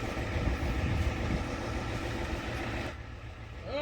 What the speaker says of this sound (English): For part of this video, just ignore the truck sound.